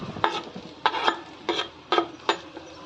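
Capsicum, carrot, cabbage and corn sautéed in a pan, with a spoon stirring and scraping in four or five rhythmic, even strokes, close and clear with no talk.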